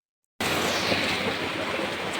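Rain falling outdoors, starting abruptly and then steady, dense and close, a continuous hiss of drops with no voices.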